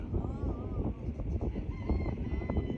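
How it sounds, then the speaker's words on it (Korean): Chickens cluck and squawk in a busy, continuous chorus nearby at a cheese theme park in Imsil, South Korea, with overlapping calls and a rising crow-like cry mixed in. "닭소리가 나네"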